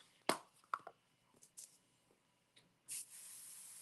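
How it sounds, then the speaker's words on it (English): A few short spritzes from a pixie spray bottle, sharp hissy bursts separated by quiet pauses, ending with a longer spray. "I'm just gonna spray it off camera here a minute."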